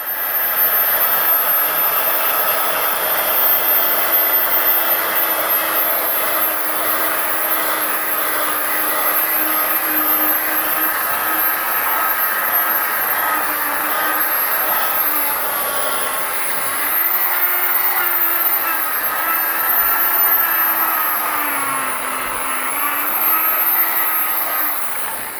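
A machine polisher whirs continuously at close range, working Mothers polish on a headlight for a second pass, with a steady high whine that bends slightly in pitch as pressure shifts.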